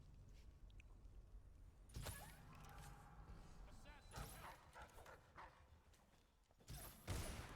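A dog barks in Dishonored, with short sharp yaps bursting out at a few scattered moments over game sounds and a low ambient bed, fairly loud and close.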